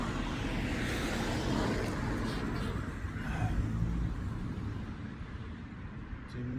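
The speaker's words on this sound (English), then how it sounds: "Too many cars going by." Steady traffic noise as cars pass by, a continuous broadband rumble and whoosh with no clear breaks, fairly close.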